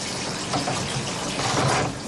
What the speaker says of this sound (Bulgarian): Чешмата задължително трябва да е безконтактна, точно като в хирургичните отделения.